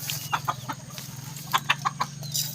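Chickens cluck and chatter nearby in short, irregular bursts over a steady low hum, with no one speaking.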